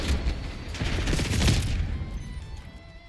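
A Semtex grenade detonates in Call of Duty Black Ops 6, a loud close boom with a rumbling, debris-filled tail that fades over a few seconds.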